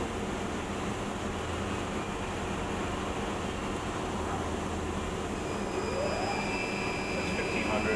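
A Fryer vertical machining center spindle running at 3000 RPM fills the space with a steady, fairly quiet mechanical whir, and a thin whine slowly rises over the constant hum.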